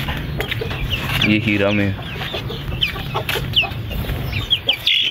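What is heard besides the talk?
chickens clucking, hen sitting on eggs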